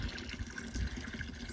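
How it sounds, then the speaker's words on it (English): Water flows and trickles at a garden pond in a Florida garden, a soft continuous burble with small splashes, close by and alone without voices. "what I wanted in this garden is to have the sound of water outside"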